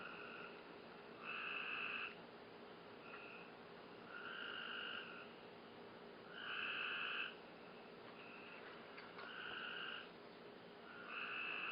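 A chorus of frogs croaks in repeated pulsing bursts of a second or two each, recurring roughly every two seconds over a faint steady background hum, heard distant and quiet.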